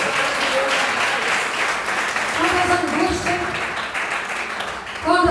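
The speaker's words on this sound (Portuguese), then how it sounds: "É as palmas novas." A church congregation claps together in sustained, dense applause that fills the whole stretch, with scattered voices rising under and through it.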